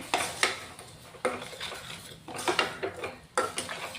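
A spoon mixes garam masala, turmeric and salt in a pan, with repeated clattering scrapes and knocks of metal on the pan in irregular bursts, close and alone.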